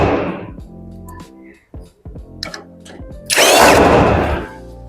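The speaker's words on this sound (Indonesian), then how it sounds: "dibaut lagi di bagian belakang bawah seperti ini" A power drill drives bolts into the lower back of a two-door wooden wardrobe during assembly, giving a loud whirring burst at the start, a series of knocks and clunks in the middle, then another long, loud drilling burst near the end.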